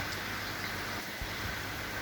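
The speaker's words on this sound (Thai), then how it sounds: "ฝนตกครับ" Steady morning rain falls in a rural area on the western side near Kwan Phayao, Thailand, a dense, even hiss of drops that continues throughout with no voices.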